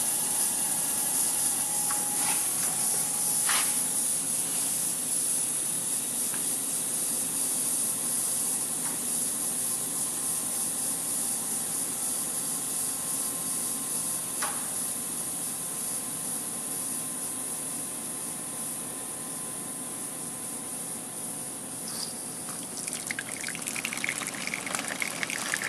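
Water gushes and hisses steadily as it drains from an air compressor tank at low pressure, a continuous sputtering spray with a few sharp clicks, heard close and fairly faint with no talk.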